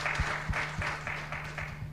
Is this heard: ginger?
no